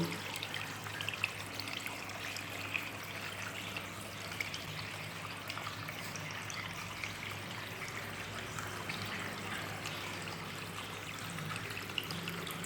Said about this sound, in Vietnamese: Đây là một dòng suối rất là tự nhiên.